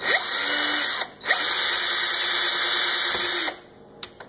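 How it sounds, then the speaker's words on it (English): A power drill whirs loudly in several bursts while drilling into a kitchen cabinet, stopping briefly twice and spinning up again, then quits, with a short final buzz. "I'm just kind of pumping, drilling."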